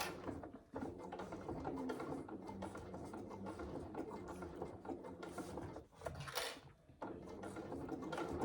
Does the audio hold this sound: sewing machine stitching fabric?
yes